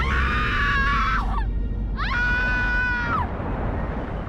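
A woman screams twice, long and piercing, with a brief gap between the two cries, loud and close over a steady background rumble.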